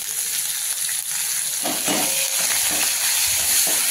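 Curry leaves and asafoetida sizzle and crackle loudly in hot oil for a Maharashtrian gavar pendpala tempering, a steady frying hiss with bursts of spitting as the leaves hit the pan, no voices.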